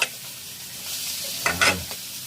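Garlic sautés in a pan with mussels, giving a steady hiss and sizzle, then a couple of louder bursts of sizzling and stirring scrapes about midway through the short moment.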